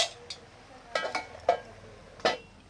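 Lid set down over a cooking pan of taro leaves, a few separate light metallic clinks and knocks spaced over a couple of seconds, fairly close and not loud, with no talk.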